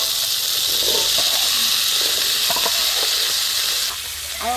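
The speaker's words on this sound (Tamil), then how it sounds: "அதோட கடலையும் கொட்டி வதக்க போகிறோம்" Chickpeas sautéing in a pan with spices such as fennel, mustard seeds, fenugreek and curry leaves, a steady close sizzling hiss with occasional stirring scrapes and clinks.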